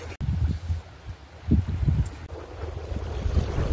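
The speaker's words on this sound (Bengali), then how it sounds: "নদীর কুলকুলানি শব্দ, ঝিরঝির বাতাস, নৌকার উপরে শুয়ে একটা সুন্দর দিন এনজয় করছি।" Breeze buffets the microphone on a small boat on the Bidyadhari river, with low rumbling gusts and soft lapping river water close by, steady throughout and no voices.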